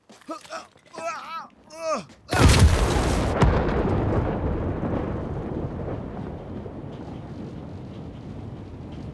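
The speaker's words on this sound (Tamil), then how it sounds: "கிரனேட்!" A grenade explosion in a WWII battle scene, a sudden loud blast after shouted voices, followed by a long rumbling decay of debris and noise.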